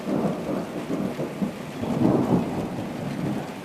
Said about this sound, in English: There's the thunder that follows.